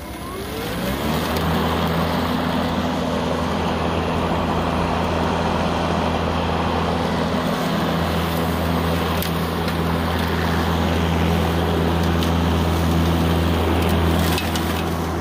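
A Makita 18V X2 battery push lawnmower with an 18-inch steel deck cuts grass, giving a loud, steady motor drone and blade whir that holds evenly throughout, close up and without speech.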